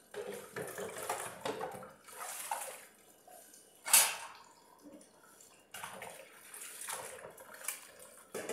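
Cold tap water runs over dishes while someone washes them, a soft, uneven splashing at low level with occasional clinks and one sharp clatter near the middle.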